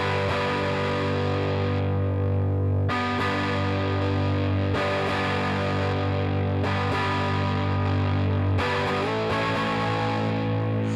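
Heavily distorted electric guitar chords ring out loud and saturated through a Fender '57 Custom Deluxe amp simulation with bridged mic and instrument inputs, changing every couple of seconds with a buzzing, fuzzy sustain.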